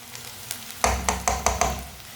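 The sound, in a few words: onions frying and being stirred in a pan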